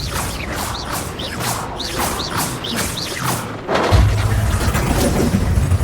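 Spell blasts and explosive impacts from Hogwarts Legacy combat hit in a rapid series of sharp bursts, followed by a heavier, sustained rumbling blast toward the end.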